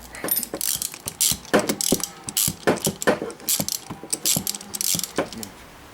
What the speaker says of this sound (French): Donc toujours avec votre douille longue.